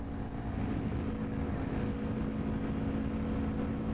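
A Honda Grom motorcycle engine runs near 7,000 RPM on a road ride, a loud, steady, unbroken drone with a constant hum and wind rush.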